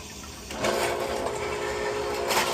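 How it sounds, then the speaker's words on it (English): Water rushing through a laundry drain line after it was partially cleared with a drain cable, a steady broadband gush starting about half a second in and continuing loudly to the end. "Now we're going to run some water"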